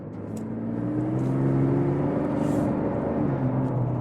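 Modded Ford F-150 regular cab with a 2.7L engine and 10R80 transmission pulling away, engine note climbing steadily through rising gear tones, heard from inside the cab with a constant road rumble and no talk.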